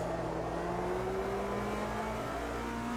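A GT race car in Automobilista 2 drives through an overtake, its engine note steadily rising under acceleration, close, loud and continuous.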